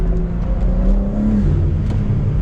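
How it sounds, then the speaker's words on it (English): A 2022 BMW M4 Competition convertible on a night drive, its engine note rising as it accelerates, a loud steady drone with a climbing pitch and no talking. "The sounds this car make is nothing short of amazing."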